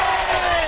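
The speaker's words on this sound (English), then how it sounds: "Now crowds are also chanting Elijah's name." A large protest crowd chants Elijah McClain's name together outdoors, a loud, sustained mass of voices heard only in a brief snatch.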